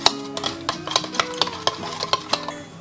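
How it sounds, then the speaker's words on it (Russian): A spoon clinks and scrapes rhythmically against a bowl or glass, stirring salt and sugar to dissolve them, repeated strokes of steady stirring, close up and alone. "И все это тщательно перемешиваем до полного растворения"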